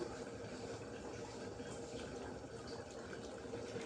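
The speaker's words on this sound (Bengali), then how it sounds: "আমি এখন তাওয়ার মধ্যে তেল দিয়ে দিলাম" Oil poured into a flat tawa griddle pan, ready for cooking dried fish with taro stolons, gives a soft, steady liquid hiss that runs unbroken for a few seconds at low volume.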